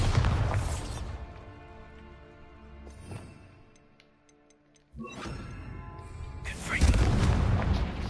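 A Bombarda spell cast in a Hogwarts video game sets off heavy booming blasts: one at the start, another sharp one midway and a rumbling one near the end, with quieter ticking and chiming in between.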